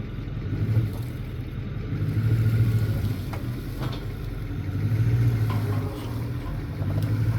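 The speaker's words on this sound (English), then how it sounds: "We're going to pull out the trailer from underneath it" Steady engine rumble from a vehicle pulling a trailer out from under a Ford 600 tractor, a continuous low drone that swells and eases slightly, with no talk.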